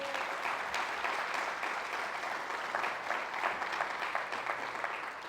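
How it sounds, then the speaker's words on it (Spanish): A church congregation claps together as an offering of applause, a dense, sustained patter of many hands filling the room for several seconds before tapering off, with no talking over it. "Vamos a dar una ofrenda de palmas."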